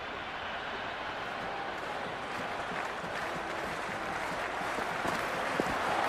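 Steady crowd buzz fills the stands at a cricket match in a video game, a continuous wash of cheering and murmur with faint applause that holds at an even level throughout.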